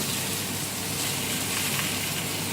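Pieces of veal frying with onions in a pan, a steady, dense sizzle that stays even and close throughout with no talking.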